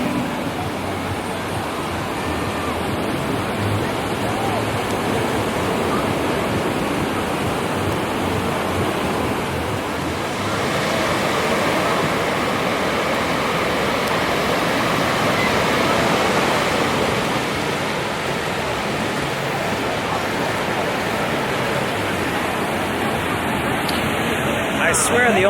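Atlantic Ocean surf at the Atlantic City beach gives a steady, close roar of breaking waves that swells and eases slowly, with a faint murmur of voices beneath it.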